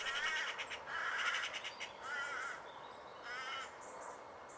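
Harsh, rattling magpie calls chatter repeatedly in the distance over a steady outdoor background hiss.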